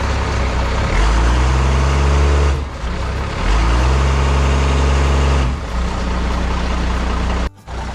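Army truck diesel engine running in gear under load, a loud, steady low rumble with deep harmonic drone that dips briefly around three and five seconds before surging back, then a short sharp drop near the end.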